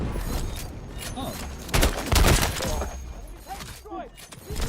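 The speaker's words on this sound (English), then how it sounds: "No, it was the grenade I tossed." A frag grenade goes off in a first-person shooter, a sharp booming blast with shattering debris about midway. Scattered gunfire crackles around it and voices talk over the action.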